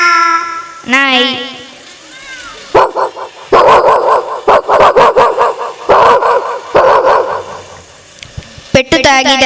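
A performer on a school annual-day stage imitates a dog, voicing a run of loud, close barks and yips in quick bursts, with a few whimpering tones at the start and a short spoken announcement before the barking begins.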